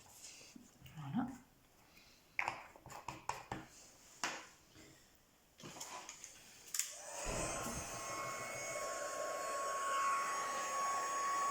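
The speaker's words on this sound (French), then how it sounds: "je vais sortir le pistolet chauffant et je vais chauffer tout ça" A heat gun blows hot air steadily over coating powder on a milk box, a continuous broadband whoosh that starts after a few knocks and handling noises and runs to the end.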